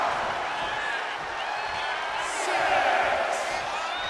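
A steady, roaring arena crowd in WWE 2K25 cheers continuously behind Rey Mysterio, swelling slightly midway, with brief whoops rising above the dense wash of noise.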